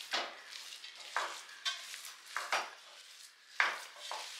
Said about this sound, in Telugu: ఇప్పుడు మరలా స్టవ్ వెలిగించేసి ఈ బెల్లం మొత్తం బాగా మిక్స్ చేసుకొని